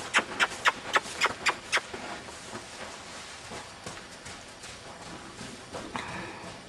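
A horse canters in an indoor arena, its hooves thudding in a quick run of about eight clear clip-clop beats near the start, then fading to softer, muffled footfalls.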